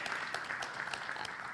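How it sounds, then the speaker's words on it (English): An audience at an academic conference keynote session applauds the keynote speakers, a steady, dense wash of clapping from many hands throughout, fairly loud and even. "please give the keynote speakers a warm round of applause"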